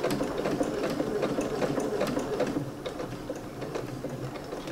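A sewing machine stitches a lampshade cover with the same presser foot, running steadily and close with a dense, rapid mechanical chatter throughout, no voices.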